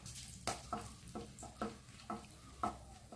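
Whole cloves, cardamom, cinnamon and a bay leaf are stirred in hot oil in a pan, a soft rhythmic series of scraping strokes, roughly one every half second, over a faint sizzle at close range.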